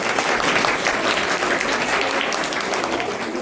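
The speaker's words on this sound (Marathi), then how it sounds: "त्यांच्यासाठी एकदा जोरदार टाळ्या झाल्या" An audience at a Grandparents' Day program gives grandparents a long round of loud, continuous applause that stays strong for the whole stretch.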